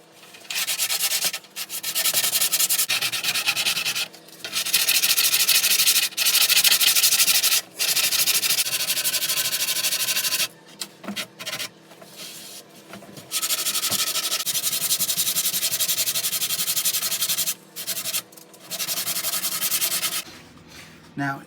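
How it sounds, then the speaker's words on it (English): Hand sanding of a plywood dog stopper gives loud, rasping back-and-forth strokes in long bursts separated by brief pauses, close up and continuous for stretches, with no speech over it. "Let's get sanded"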